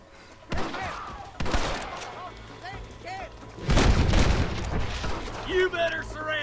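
Gunshots in the western video game Red Dead Redemption, a few sharp cracks and booms spread across the moment amid music and ambient game sound, with people talking throughout.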